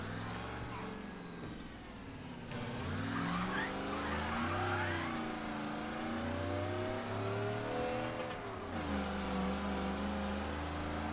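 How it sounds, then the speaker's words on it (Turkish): A car from Mafia 1 Definitive Edition drives with a steady engine drone that rises and falls as it revs, continuous throughout with game music and a voice talking over it. "Bu araba aslında Don Salier'in ilk oyundaki meşhur arabası da"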